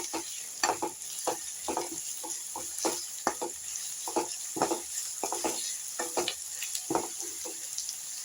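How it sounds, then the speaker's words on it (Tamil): Onions sautéing in a pan for spicy chicken curry: steady close sizzling with repeated scraping stirs of a spoon in a quick irregular rhythm, no talking. "பாருங்கள், வெங்காயம் நல்லா வதங்கட்டும்."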